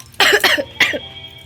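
Two or three sharp, harsh coughs close up, the last one a little apart from the first two, with quiet room tone around them.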